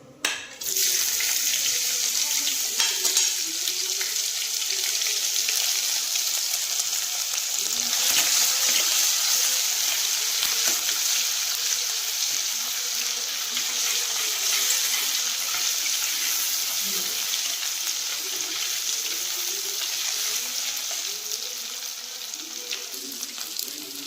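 Crushed ginger and garlic hit hot oil for a Kerala-style country chicken roast, giving a steady, close, loud sizzling hiss that runs on unbroken after a brief clatter at the start.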